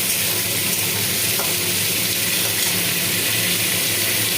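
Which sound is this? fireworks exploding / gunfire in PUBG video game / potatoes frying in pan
potatoes frying in pan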